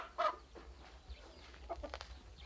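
A rooster on a farm gives short bursts of crowing and clucking, fairly faint against a quiet low hum.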